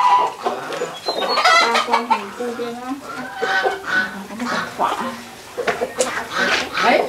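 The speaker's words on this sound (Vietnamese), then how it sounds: "Gà trọi. Gà trọi kìa." Fighting roosters clucking and calling loudly and repeatedly on a rural farm, close by, with people talking over and between the bird sounds.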